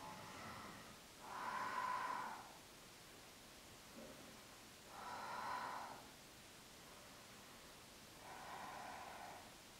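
Slow, deep breathing is held in a yoga shoulder stand: three long, airy breaths spaced a few seconds apart, soft and near, with quiet pauses between them.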